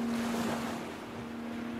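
The sea where conscripted Korean laborers died, near an old coal-mine site in Japan: a steady wash of waves and surf under strong wind, with a low constant hum throughout and no voices.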